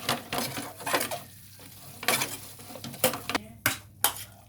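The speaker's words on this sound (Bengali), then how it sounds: "দিয়ে ভালো করে একে সতে করবো।" Fried paneer sautéed and tossed in a pan, with a spatula scraping and knocking against the metal in irregular strokes over a soft sizzle, close and fairly loud, with no talking.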